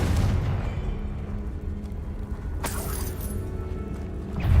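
A Confringo fire spell detonates in Hogwarts Legacy, a magical video game, as a loud burst over a constant rumbling background of combat and effects, followed by another swelling blast at the end.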